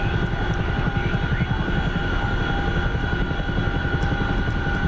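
A Chinook twin-rotor helicopter in a combat flight game drones along with a steady, heavy rotor thump and engine whine, loud and constant throughout, with no speech.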